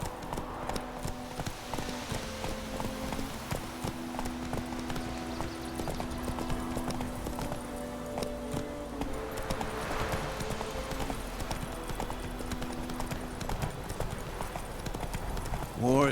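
Roach, the horse in The Witcher 3, clip-clops along at a slow steady walk, hoofbeats continuous throughout under game music, with a brief voice line partway through.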